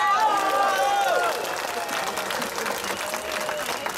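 Audience applause at a political rally, a dense wash of clapping from a crowd that is loud at first and then eases to a steadier, softer patter, with no one speaking.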